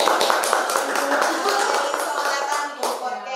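Loud, close clapping in a podcast studio welcomes a guest, a dense burst of hands with a few sharper claps, while voices overlap beneath it.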